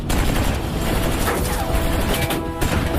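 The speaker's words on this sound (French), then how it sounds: "c'est la mitrailleuse qui nous tire dessus!" Sustained machine-gun fire in a French action-film desert battle, a dense loud rattle of rapid bursts with crashing impacts throughout, filling the scene from start to finish.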